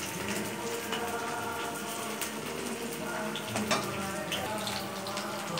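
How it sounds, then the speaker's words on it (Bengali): Fritters (bora) frying one by one in oil over lowered gas, a constant dense sizzle and crackle with no break, close and even throughout. "এইভাবে এক এক করে সবগুলি বড়া আমি ভেজে নেব"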